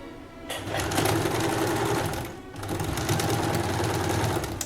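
Sewing machine with a zipper foot stitching a zip onto a kurta: two steady runs of rapid mechanical stitching, close and moderately loud, with a brief pause between them.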